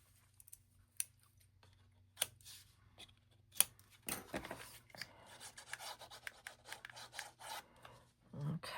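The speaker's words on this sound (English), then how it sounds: "I'm going to take it and burnish it." A paper flap being burnished flat, with intermittent soft rubbing and scraping strokes that are faint and close, growing busier and more continuous in the second half, with no talking.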